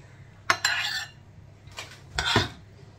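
A spoon scrapes and clinks against a dish while stuffing peppers, a few short knocks and scrapes in quick succession, close and fairly quiet.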